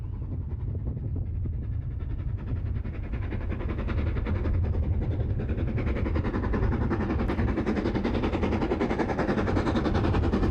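Train running over the Hope Valley route at Chinley, a continuous loud rolling rumble with rapid rhythmic wheel clatter, building slightly as it passes close by, with no voices.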